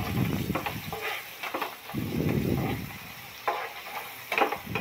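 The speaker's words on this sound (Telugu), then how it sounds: "బాగా ఫ్రై చేసుకుందాం." Onions frying with salt in a pan for tomato chutney, a steady sizzle broken by repeated scraping stirs of a spatula, close and fairly loud.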